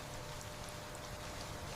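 Steady rain falling through a forest at night, a dense, even hiss of drops with no pauses, close and enveloping, with no voices.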